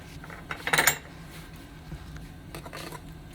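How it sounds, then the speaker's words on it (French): Greek yogurt and spices are mixed in a bowl for baba ghanoush, with a brisk burst of spoon-against-bowl clinking and scraping near the start, then quieter scrapes and a few light taps, close up and without speech. "Je mélange bien."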